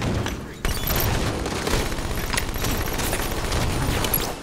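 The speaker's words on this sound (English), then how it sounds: "SMG, baby!" Rapid SMG gunfire in the video game Halo 5: Guardians, dense continuous bursts of automatic shots filling the whole stretch, loud and close with booming impacts mixed in.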